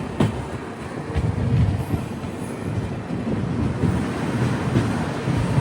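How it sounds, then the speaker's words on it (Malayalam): Tourist train with a Vistadome coach pulling into Hasimara railway station in West Bengal, a steady low rumble of wheels and carriages with wind buffeting, no voices. "ട്രെയിൻ ഇപ്പോൾ ഇതാ വെസ്റ്റ് ബംഗാളിലെ തന്നെ ഹാഷിമാറ റെയിൽവേ സ്റ്റേഷനിലേക്ക് എത്തുകയാണ്."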